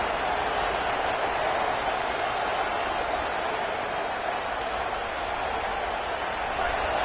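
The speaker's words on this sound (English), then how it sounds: "This crowd, full throat, spreading the eardrums and letting them know it's going to be a long day." A football stadium crowd roars in a steady, dense wall of noise that holds at full volume throughout.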